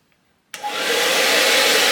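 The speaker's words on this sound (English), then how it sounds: "we're going to put the hairdryer on a low heat just to kind of warm that tyre up" A hairdryer switches on after a moment of silence and blows steadily on a medium setting to warm a motorcycle tyre, a loud close whooshing hum that quickly reaches full strength.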